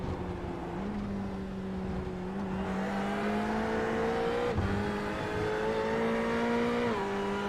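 GT race cars, including a Ferrari and a BMW, accelerate at Le Mans in a racing video game. A loud, continuous engine drone climbs steadily in pitch, with brief drops at gear shifts and no voices.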